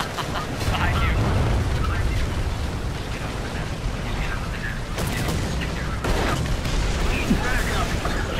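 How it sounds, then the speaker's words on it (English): Explosions and heavy gunfire from War Thunder tank combat with a Brummbar blowing off enemy turrets, a dense, continuous rumbling barrage with sharper booms near five and six seconds, while players talk over it. "how big of an explosion was that?"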